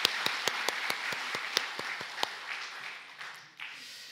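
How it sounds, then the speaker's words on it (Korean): Congregation applause in a church after a worship song, sharp individual claps at first, then thinning and fading into a quieter room with scattered sounds. "다시 한번 감사의 박수 보내드리겠습니다."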